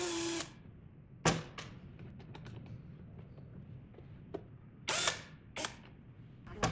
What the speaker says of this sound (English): Fix it with a screwdriver.